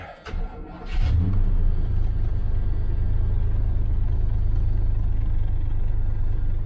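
An old 1978 Chevy Nova engine with a slight shake turns over and settles into a steady, loud, rumbling idle with a faint uneven throb, close by and with no talk.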